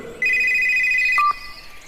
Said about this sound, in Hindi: तभी मेरा फोन बजा।